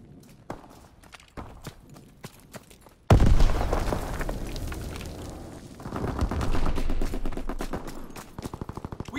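Bursts of game gunfire in a Call of Duty: WWII team deathmatch, quieter isolated shots giving way to loud, dense rapid automatic fire with a steady hammering rhythm toward the end, near and prominent.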